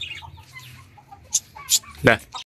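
Roosters cluck in short, sharp bursts, several quick calls close by in a quiet setting, with faint background noise between them.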